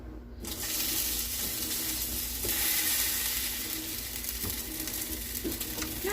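Country style ribs frying in a hot pan, a loud, steady sizzle with crackling spatter that holds throughout, close and unbroken, with no talking.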